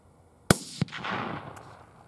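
A rifle fires at a hog about 100 yards away: one sharp, loud crack, then a second report and a rolling echo that fades across open ground.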